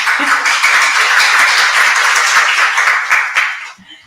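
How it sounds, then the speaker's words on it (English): Steady crowd applause with dense clapping that holds evenly, then fades out near the end. "I think she deserves a round of applause for that."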